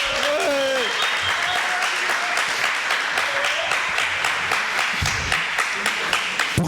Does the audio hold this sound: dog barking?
no